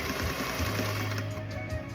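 A sewing machine runs steadily while edge stitching a narrow seam on a tote bag, a fast, even mechanical whir heard close and fairly quiet with no voices.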